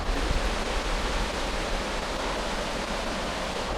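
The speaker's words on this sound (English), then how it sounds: "and it's pouring down rain is not easy" Heavy rain pours down outdoors on rocky ground, a dense, continuous broadband hiss that stays loud and even throughout.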